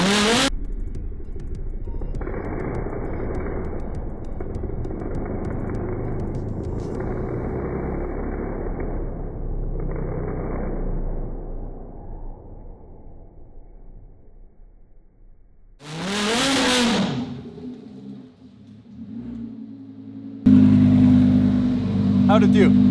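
A Lamborghini Huracan in Corsa mode revving hard during a burnout, a loud sustained engine roar that fades down over several seconds, followed by a short burst of rushing noise and then louder clatter and voices.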